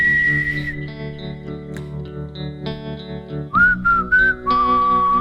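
Whistled melody from the Red vs Blue intro song, sustained tones with a few pitch bends and a shift lower partway through, heard over a layered musical backing treated with chorus and echo effects.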